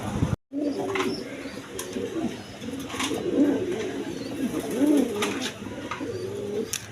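Big, high-quality pigeons at a wholesale pigeon market near Dhaka coo steadily, overlapping rolling calls repeating close by with faint rustling around them and no talk.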